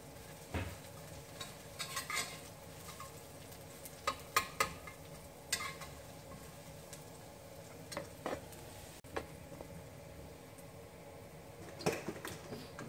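Garlic browning in a hot pan makes a quiet sizzle, with scattered scrapes and clinks of a utensil stirring it at irregular intervals.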